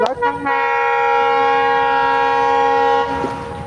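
A train rumbles past near Khulna, Bangladesh, heading toward Mongla, with a long, loud horn blast holding steady for several seconds, then fading.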